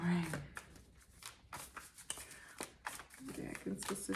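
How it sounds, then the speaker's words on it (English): A deck of tarot cards is shuffled by hand in repeated quick riffling bursts, close and crisp, with a voice speaking briefly at the start and again near the end. "I may have to do a little extra shuffle on these decks."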